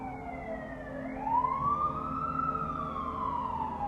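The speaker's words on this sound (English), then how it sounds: "You hear those sirens?" A wailing siren rises and falls in pitch, moderately distant, over a low rumble of road traffic.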